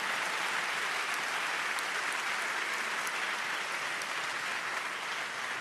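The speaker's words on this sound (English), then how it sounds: "we think we need an applause for this" Audience applause at a climate summit in Austria, a dense, even wash of clapping from a large crowd that holds steady for several seconds without talk.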